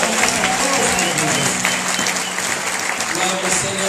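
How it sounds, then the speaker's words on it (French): A church congregation applauds and cheers loudly for Jesus, with dense, continuous clapping and crowd noise filling the room at a steady level, joined by voices throughout. "Alors acclamons très fort pour ce Jésus."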